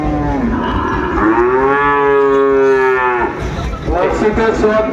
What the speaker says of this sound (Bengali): আমরা একটু গরুগুলা দেখবো শাহাবুর ভাই সুন্দরভাবে।